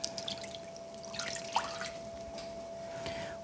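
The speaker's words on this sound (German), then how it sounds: "Da ein bisschen Wasser rein." Water drips and trickles into a pan holding a roast, soft, close sounds with a faint steady tone behind them, and no talking.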